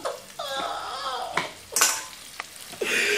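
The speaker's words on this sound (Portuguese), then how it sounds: "então vamos fritar aqui a salsicha. Deixa eu fritar." Sausage frying in a pan, a sizzle broken by a few stirring and scraping knocks against the pan, close and fairly loud over about three seconds.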